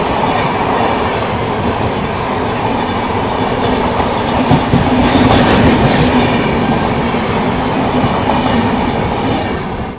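The Bihar Sampark Kranti Express, running Darbhanga to New Delhi, rolls into Badshahnagar railway station with a continuous loud rumble, rhythmic clickety-clack of wheels and brief high squeals midway, and no voices.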